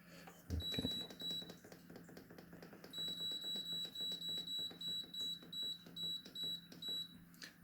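A Hotpoint cooker beeps during clock setup: one short beep near the start, then a steady run of about a dozen evenly spaced electronic beeps, close and fairly quiet.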